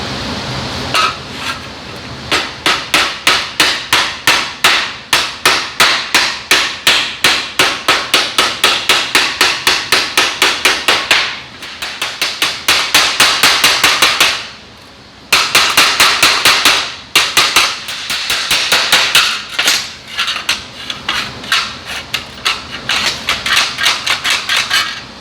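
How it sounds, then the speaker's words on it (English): Rapid, loud hammer blows ring on a sheet metal panel of a 1969 VW Bus in steady bursts, with a brief pause midway before the pounding resumes. "I'm just going to hammer that over, and that will be it for this panel."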